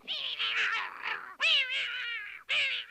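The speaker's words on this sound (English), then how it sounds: "Good heavens, a green cat." Cartoon cat meowing in a green-cat scene from George of the Jungle: three loud, close, drawn-out yowling meows in a row, the first long and wavering, the last two separated by brief gaps, with no talking.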